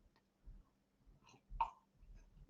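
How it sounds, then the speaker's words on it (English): A single short cough from an adult speaker in a quiet indoor room, fairly close and dry, with soft breathing and faint throat noises around it and no speech. "I don't know why I always get a cough when I start talking."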